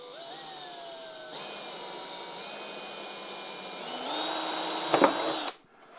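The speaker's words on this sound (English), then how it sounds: "I'm going to go ahead and I'm going to drill a pilot hole here" A small drill bit spinning up to bore a pilot hole in a vintage VW Bug kick panel, a steady high whine that shifts pitch as the bit bites, ending in a brief crunch before stopping abruptly.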